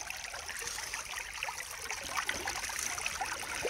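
Running water of Anderson Creek at Warrandyte: a steady, soft rushing trickle that continues evenly throughout, fairly faint and with no voices.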